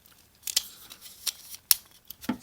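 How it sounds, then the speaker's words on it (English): A spring-loaded clip on a 3D printed flex lamp holder is pulled down, giving a few quiet, short, sharp clicks and snaps spaced apart, with no talking. "I've got a little spring-loaded clip type deal, and I pull that down."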